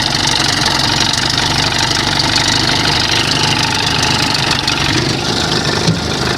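An old outboard motor idles up close, a continuous rough, vibrating drone with a knocking undertone that holds steady throughout.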